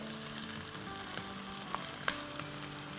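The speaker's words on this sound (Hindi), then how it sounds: "तो इसमें अब हम डालेंगे 3 टमाटोज जो कि ग्रेट कर लिए हैं" Grated tomatoes hitting lightly browned onions in hot oil, a steady close sizzle and crackle with stirring scrapes and a sharper pop partway through.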